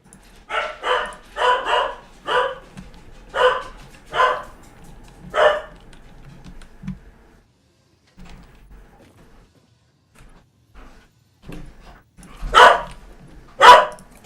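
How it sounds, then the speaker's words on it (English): Several dogs bark in a quick burst of repeated woofs, then fall quiet before two louder, closer barks ring out near the end; no speech. "Sorry about the dogs."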